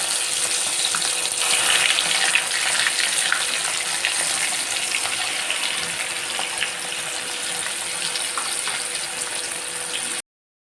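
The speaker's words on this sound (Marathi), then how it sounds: "आता फ्राय करून घेऊया" Coated prawns sizzling in hot oil, a steady dense hiss and crackle that holds evenly for about ten seconds before cutting off, with no talking.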